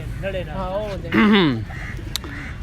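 Soft, wavering pigeon coos sound close by in a few rolling phrases, over a steady low background hum.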